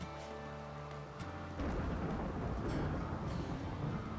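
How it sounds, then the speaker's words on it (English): A thunderstorm in the colony-building game RimWorld rolls in as steady tones give way to a broad, continuous wash of rain and low thunder rumble that holds at a fairly loud level to the end. "Little thunderstorm we gotta pay attention to."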